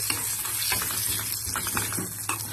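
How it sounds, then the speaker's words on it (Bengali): Fennel seeds frying in ghee in a kadai for a mouri potol dish, a steady close sizzle with light stirring scrapes at intervals, no voices. "ঘিয়ের মধ্যে মৌরিটা দিয়ে একটু নেড়ে ছেড়ে নেব"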